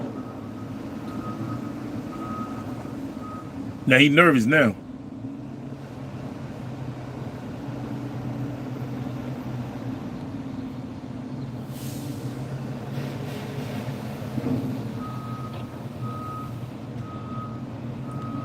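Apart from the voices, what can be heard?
truck moving with reversing beeps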